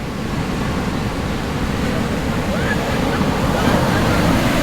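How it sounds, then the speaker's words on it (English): Ocean surf at Sunset Beach on Oahu's North Shore, a steady, loud wash of breaking waves with wind noise buffeting the microphone throughout. "Wow, the surf is coming all the way up here."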